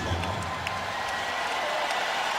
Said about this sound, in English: Fans cheer Michael Jordan back in.